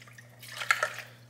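Water poured from a cup into boxed cake mix in a home kitchen, a short faint trickle with a couple of brief splashy drips over a steady low hum.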